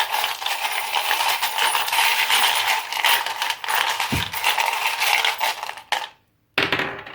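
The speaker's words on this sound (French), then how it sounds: "Je vais rajouter un petit dé sur chaque groupe de cartes." Small dice tumble and rattle across tarot cards laid in groups, a dense run of clicking and clattering that stops abruptly, then resumes briefly after a short silence.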